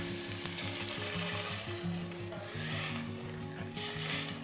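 Banana puree and jaggery syrup cook in hot ghee in a vessel for Kerala banana kheer, giving a steady close sizzle with light stirring scrapes, under a continuous backing of instrumental music.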